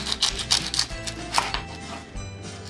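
A kitchen knife chops onions into thin rings on a cutting board while shakshuka is prepared. The blade strikes in a quick, steady series of crisp taps, close by and clear, with no talking over it.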